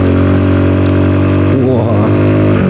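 A custom-built 110cc motorcycle engine revs steadily on the throttle, loud and close, its pitch climbing and wavering as the rider works the throttle, with no talk over it.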